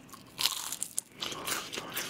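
Crunchy bites into crispy fried chicken, several crackling crunches close up with brief pauses between them, no talking.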